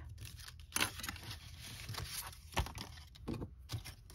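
Paper being cut for a trifold pocket craft gives a few quiet snips and crisp rustles, close and soft, with brief louder crinkles between.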